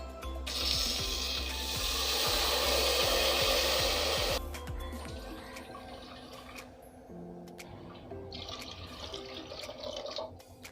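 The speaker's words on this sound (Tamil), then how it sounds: "இப்போ நம்ம 1/2 கப் பாசி பருப்புக்கு 3 கப் போல தண்ணி ஆட் பண்ணிடலாம்." Water pours steadily into a pan of fried moong dal for Tamil paruppu payasam, a loud continuous gush for about four seconds, then fainter trickles and stirring clinks with no talk.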